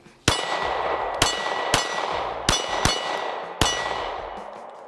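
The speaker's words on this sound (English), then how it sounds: "a couple of shots with the Glock 43." Six sharp Glock 43 pistol shots ring out at a shooting range in an irregular sequence, each a loud crack with a metallic ringing tail and no talking.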